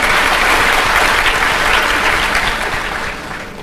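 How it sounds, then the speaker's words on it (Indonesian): Sustained applause from a church audience for the praise and worship team, a dense, steady wash of many hands clapping at close range that thins slightly toward the end. "Boleh tepuk tangannya di extend buat tim praise and worship kita"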